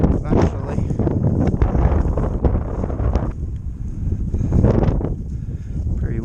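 Steady wind rumbles and buffets the microphone throughout on a swamp walk, with a voice talking over it in the foreground.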